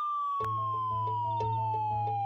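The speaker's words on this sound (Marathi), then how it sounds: "पोलीस गाडी" A police car siren sounds a single steady wail that slowly drops in pitch, alone and moderately loud, with a low engine hum and faint regular pulses underneath.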